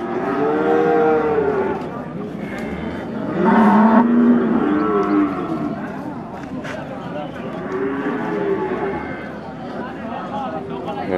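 Two jumbo Limousin cattle at a market in the morning moo several times, long low bellowing calls with a louder one in the middle, over a busy background of distant chatter.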